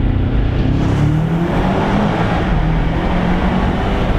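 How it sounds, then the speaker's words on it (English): A BMW M5 Touring's V8 engine roars loudly and steadily up close, with a rising, strained growl and a whooshing, hissing turbo edge over the deep rumble. "A lot of turbo noise."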